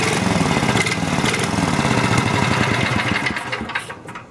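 A 1971 MTD Trail Flite mini bike with push-button start and a torque converter clutch runs close by with a loud, steady, rapid small-engine putter that eases slightly toward the end.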